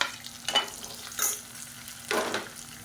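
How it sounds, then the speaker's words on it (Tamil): Sliced onions and green chillies sizzle steadily in hot oil in a pan for a potato gravy, with three soft scraping stirs of a spoon at intervals, close and quiet, no voices. "வெங்காயம் ப்ரௌன் கலரில் வதங்கிடுச்சு."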